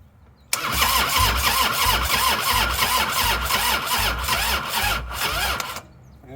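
An old Harley-Davidson motorcycle engine cranks steadily for about five seconds with a rhythmic, labored chugging from a weak battery, never catching, heard up close with no talking.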